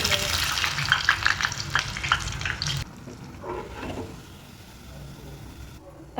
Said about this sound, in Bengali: ঠিক এইভাবে নিয়ে তেলে ছেড়ে দেবো